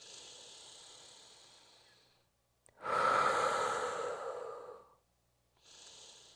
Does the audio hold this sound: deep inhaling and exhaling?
yes